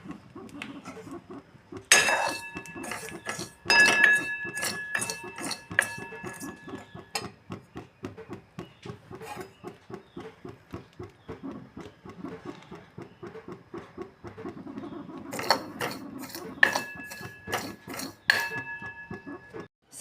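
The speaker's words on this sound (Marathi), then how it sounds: "डिंकाप्रमाणेच खसखस पण थोडीशी आपण भाजून घेऊया। त्यात तूप न टाकताच ती थोडी भाजून घ्यायची आहे।" Poppy seeds dry-roasting in a pan without ghee, a long run of rhythmic scraping and stirring strokes with light metallic clinks, close and moderately loud; no talking.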